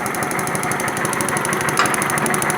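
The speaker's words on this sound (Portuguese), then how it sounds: "Tá vendo o barulho mudando? A porca soltou a polia." A Kawasaki Vulcan 900 motorcycle engine idles with a loose pulley nut, giving a steady, close mechanical knocking and rattling over the running engine and a rapid high-pitched ticking pattern throughout.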